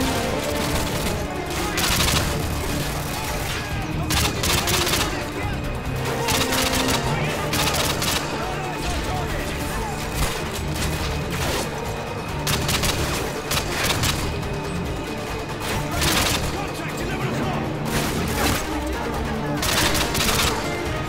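Gunfire from the PC video game Call of Duty: Modern Warfare 2 keeps up through the whole stretch as dense bursts and single shots with booms. The game audio is loud and continuous, and talk runs under it.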